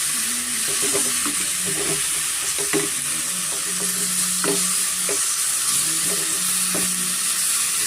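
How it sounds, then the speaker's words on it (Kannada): Two thick-cut tomatoes sizzle steadily in oil for a sprouted horse gram sambar, with a spoon stirring and scraping the pan at intervals, close and continuous with no talking. "ಅದು ಸ್ವಲ್ಪ ಎಣ್ಣೆನಲ್ಲಿ ಚೆನ್ನಾಗಿ ಫ್ರೈ ಆಗಿ ಫುಲ್ಲು ಸಾಫ್ಟ್ ಆಗಬೇಕಾಗುತ್ತೆ"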